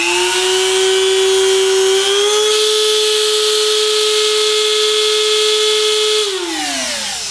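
A Wen rotary tool on a flex shaft screams at its highest RPM with a loud, steady high-pitched whine that rises a step partway through, then winds down in pitch near the end, no talking.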